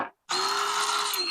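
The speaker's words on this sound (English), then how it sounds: "So I'll just drill a hole into this cap" A power drill spins up after a brief pause and runs steadily, a loud, close whine with a grinding edge as a 9/16-inch hole saw cuts into a plastic cap.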